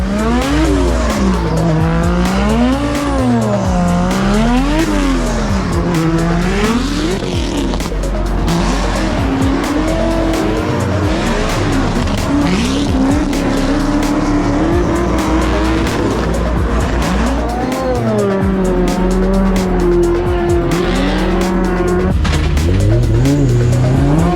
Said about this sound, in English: I'm going to hang it over the burnout box while the guys warm their tyres up, ready to do a run down.